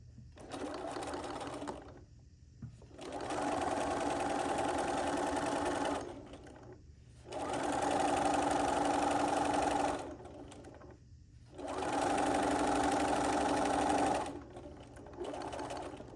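A sewing machine hums in long, steady runs of about three seconds each, separated by short pauses, while it sews binding onto a cross stitch pillow.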